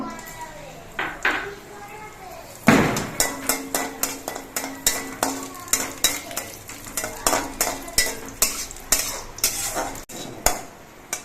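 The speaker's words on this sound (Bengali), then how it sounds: "এবার কিশমিশগুলো ভেজে নেব" Raisins frying in hot ghee for a festive Bengali pulao, a soft sizzle under a steady run of rhythmic metal spoon scrapes and clinks against the pan, close and fairly loud.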